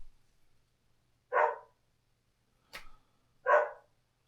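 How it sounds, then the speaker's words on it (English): A dog barks at a distance, two short single barks spaced a couple of seconds apart with a faint click between them, otherwise quiet and free of talk. "There's a dog barking"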